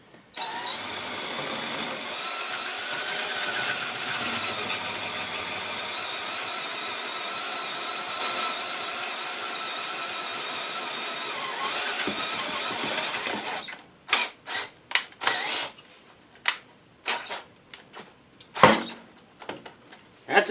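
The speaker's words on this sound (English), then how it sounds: "That's what happens when you get a sharp drill bit." Power drill with a sharp 5/16 bit running steadily and loud for about thirteen seconds on a single-burner forge repair, then stopping into a series of short clanks and knocks.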